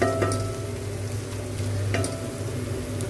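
A cumin and coriander paste fries with garlic, ginger and browned onion for a Nepali goat bhutan, giving a steady close sizzle with occasional stirring scrapes and no talking.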